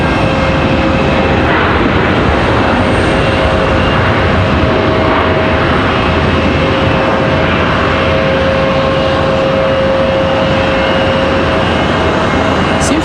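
A WestJet airliner at Raleigh-Durham International Airport, its engines giving a loud, steady roar that holds without a break, with a faint voice now and then in the background.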